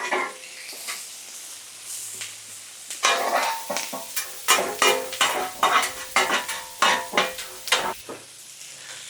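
Butter sizzles on a hot griddle alongside sausage, peppers and onions, a steady hiss broken by sharp bursts and scraping stirs that grow louder and more rhythmic midway, then settle back to a quieter sizzle near the end.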